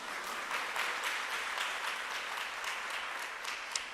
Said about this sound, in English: We should clap it up for that as well.